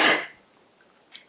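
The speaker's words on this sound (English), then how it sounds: "I need to sneeze." One short, sharp indoor sneeze bursts out at the very start, then fades into near silence before a faint rustle at the end.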